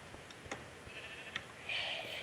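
A sheep in the video game Minecraft gives a short nasal bleat near the end, after a few faint clicks over a soft steady background.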